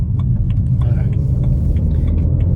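A BMW 335i N54 M Sport Touring with a ZF six-speed automatic is driving in relaxed drive mode, heard from inside as a loud steady low engine rumble with faint cabin ticks. Gear changes are not distinct.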